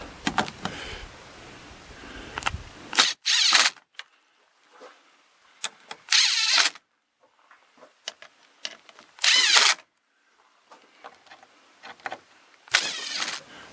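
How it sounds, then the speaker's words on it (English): Impact wrench snugging the four mounting bolts of a parking/signal light on a 2011-2016 Ford F-250, heard as four short, loud, buzzing bursts spaced a few seconds apart, with quieter handling clatter between them. "make sure they're not too tight with the impact wrench"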